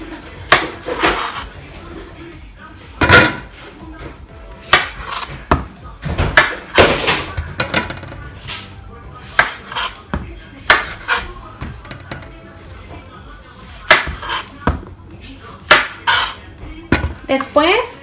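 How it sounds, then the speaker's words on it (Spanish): A kitchen knife trims the ends off zucchini, giving sharp, irregular knocks and clacks against a hard surface, loud and close, spread across the stretch with short quiet gaps between cuts. "Vamos a cortar solamente las puntas de nuestras calabacitas."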